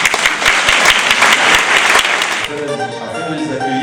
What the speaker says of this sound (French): Je pense que les enfants attendent vos applaudissements.